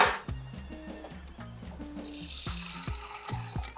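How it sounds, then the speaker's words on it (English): Water poured into a pot of Nigerian oha soup on the stove, a steady trickle and splash with clinks of a utensil against the pot, close and moderately loud. "I'll have to add a little water."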